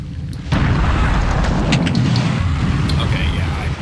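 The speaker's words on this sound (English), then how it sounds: "I dig this blunderbuss a lot" A blunderbuss fires in Wrath of Cronos, a sudden loud blast that kicks in abruptly and leaves a sustained roaring, rumbling tail, with a voice talking faintly underneath.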